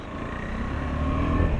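A KTM 390 Adventure motorcycle engine drones steadily while riding at about 60 on a rough road, as a continuous close rumble that builds slightly toward the end.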